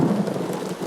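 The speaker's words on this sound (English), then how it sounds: "this have also built-in effects like lightning storm" Lightning-storm effect from an RGB studio light, a steady rumbling wash of thunder and rain heard alone and fairly loud for a brief moment.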